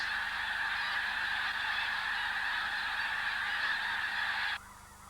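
A large flock of lesser snow geese, both white and blue forms, honks in a dense, continuous chorus while flying overhead, the clamour cutting off sharply near the end.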